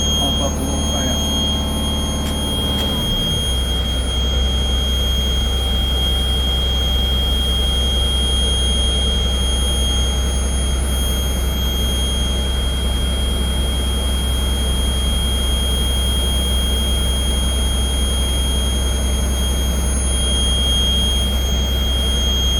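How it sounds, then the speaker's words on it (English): A school bus engine revved to build air brake pressure, a steady low idle drone with high whining tones; an early mechanical tone drops away after a few seconds while the engine keeps running evenly. "If she says yeah, then you can go ahead and rev it up."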